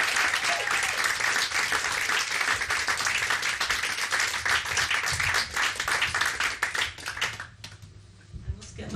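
Audience applause at a Margate cinema screening night, dense steady clapping from a crowd that holds for about seven seconds before thinning out and fading near the end.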